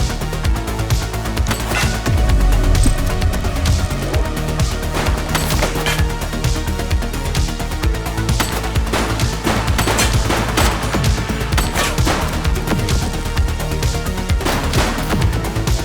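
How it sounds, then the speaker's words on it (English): Gunfire in the police video game The Precinct, set in the 1980s: dense, rapid shots cracking throughout over a loud background of music and action sounds, with no talk. "He's shooting!"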